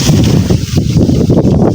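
Strong wind blowing through a coconut grove, loud gusty buffeting against the microphone in a short continuous burst, with no talk.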